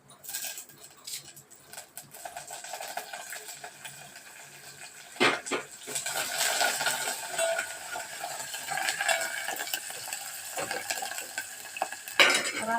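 Onions and curry leaves fry in a pan as a utensil stirs them, a steady sizzle building and thickening midway, with scraping clinks of the spoon against metal close by.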